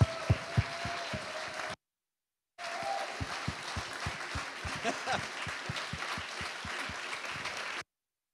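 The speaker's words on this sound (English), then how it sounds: "can we just applaud" Applause from a church congregation at a Sunday service, a dense wash of many hands clapping for several seconds, broken by a short silent gap before the clapping resumes and continues steadily.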